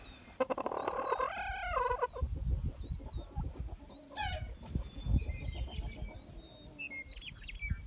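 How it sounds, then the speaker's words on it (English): A chicken lets out a loud, wavering screech up close, followed by scattered clucks and chirps from other fowl around it. "chickens screech when they see, hear, or even just sense something unexpected or unknown"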